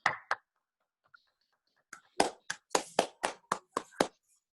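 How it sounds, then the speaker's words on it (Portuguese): Scattered hand claps from a small group during a live online wine tasting, a few opening claps then a pause before a quick run of about ten sharp, close claps. "vamos agradecer, uma salva de palmas aí para o seu Procópio."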